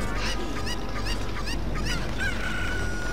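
A chicken in Zelda: Ocarina of Time clucks and squawks in short repeated bursts over a steady background hum and music-like texture, with a higher drawn-out call near the end.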